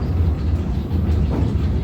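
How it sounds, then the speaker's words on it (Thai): Tram ride up Khao Wang hill in Phetchaburi, with a steady low rumble and rattle of the moving tram running continuously throughout, fairly loud and close. "กำลังนั่งรถราง รถรางไปไหน ไป ขึ้นไปเขาวัง เขาวังเพชรบุรีนะคะ"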